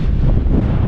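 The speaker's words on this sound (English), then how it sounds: "Super windy too." Strong mountain wind buffets the microphone in a loud, low, rumbling roar that surges unevenly through a brief moment outdoors, with no talking.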